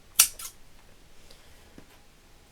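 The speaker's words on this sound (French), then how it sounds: "On va venir couper ce qui dépasse." Scissors snipping off excess string on a small handmade witch broom, two quick close snips then quiet, a faint click after.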